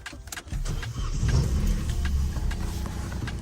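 A 1 litre Vauxhall Corsa that has sat unused for a few days cranks briefly, catches and settles into a steady, close idle, with a light jangle of keys at the start.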